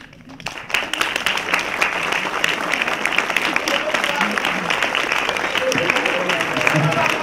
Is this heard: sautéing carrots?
no